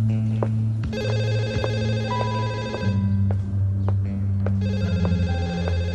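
An indoor telephone rings in repeated electronic trills of steady tones, loud and close. The tone changes partway through, and a low hum runs beneath it.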